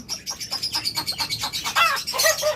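Small birds chirp rapidly nearby in a quick, steady repeating series that rises into louder, squeakier calls toward the end.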